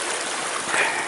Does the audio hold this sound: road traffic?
no